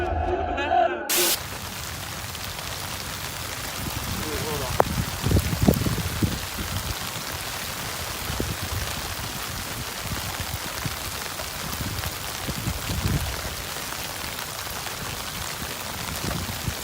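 Rain falling on and around a tent at a campsite, a dense steady hiss of drops that continues throughout, with occasional rustles, thumps and voices beneath it.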